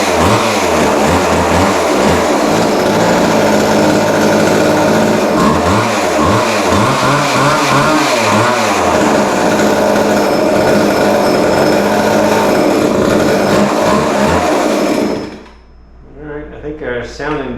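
A vintage Montgomery Ward Featherlite chainsaw engine fires up and runs loud and close with a rough, uneven two-stroke buzz and revving surges, then cuts off abruptly near the end.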